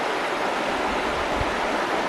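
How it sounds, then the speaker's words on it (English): Small rapids on a cold, clean forest river churn in a constant, fairly loud rush of white water, the hiss unbroken throughout with an occasional low thump, and no voices. "being by these little tiny rapids just make for a great sound and a great view."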